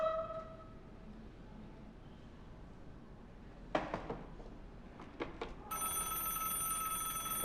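An old-fashioned telephone bell rings in a Ukrainian comedy series, a loud bright ring near the end following a few clattering knocks and handling sounds against a quiet room background.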